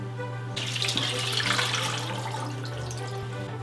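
Water pours in a steady, close stream into a pot of coq au vin with tomato, wine and molasses, a continuous splashing gush over a low background hum.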